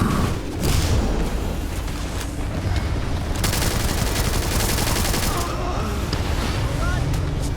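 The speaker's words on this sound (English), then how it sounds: "Stay down for cover fire." Sustained cover fire in a Starfield firefight, rapid loud gunshots in a continuous barrage lasting several seconds, with voices speaking over the shooting.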